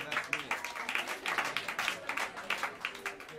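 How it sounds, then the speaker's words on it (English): Jazz club audience at Smalls in New York City clapping for the band, a continuous wash of hand claps with brief cheers, loud and near, with people talking through it. "Big round of applause."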